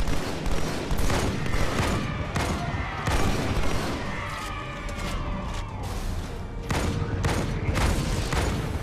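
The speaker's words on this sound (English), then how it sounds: "It's like the fools don't realise that grunts explode" Grunts blowing up in Halo 2 Anniversary, with dense gunfire and repeated explosive booms throughout amid constant battle noise.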